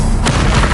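A fire spell is cast in Hogwarts Legacy, a single loud whooshing boom that flares up and stays dense and roaring for under a second.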